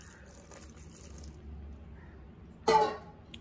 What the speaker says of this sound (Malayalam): ഇതിലേക്ക് ഞാൻ കുറച്ച് വെള്ളം ഒഴിച്ചു കൊടുക്കാൻ പോവുകയാണ്.